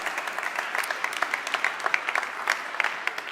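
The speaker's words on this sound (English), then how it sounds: "a big round of applause for that" An evening dinner audience at a presentation of the Nikola TRE truck by IVECO and Nikola breaks into steady applause, dense overlapping claps at moderate distance.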